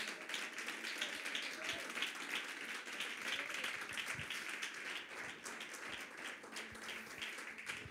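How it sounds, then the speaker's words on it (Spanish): Congregation applauding in a church service, a steady dense patter of many hands filling the space at even loudness throughout, with faint voices mixed in. "Un fuerte aplauso al Señor."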